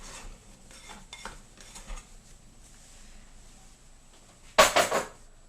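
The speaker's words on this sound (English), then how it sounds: "Scoop the dough out." Pizza dough being scooped out of a bowl onto a floured counter: quiet rubbing and soft handling sounds, then a short burst of scraping and clattering toward the end.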